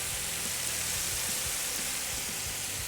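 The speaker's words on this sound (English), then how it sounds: "Look at that sizzle." Fish pieces in a big-bait fish fry crackle and sizzle in hot oil, a dense, steady frying hiss held close and loud for the whole stretch with no voices.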